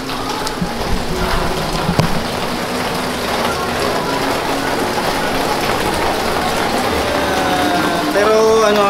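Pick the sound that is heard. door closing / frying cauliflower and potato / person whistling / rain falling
rain falling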